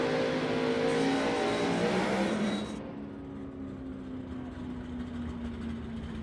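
Crick Motorsports Duster drag car with a NASCAR Mopar engine at a Super Pro drag race, loud engine roar that fades after a few seconds to a steady distant whine.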